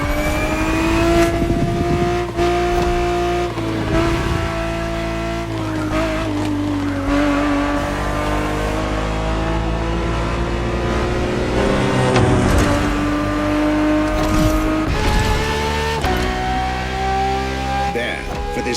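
A Ferrari 365 GTB4 races in The Crew Motorfest, its engine revving loudly and continuously through gear changes while tires squeal and skid in long stretches.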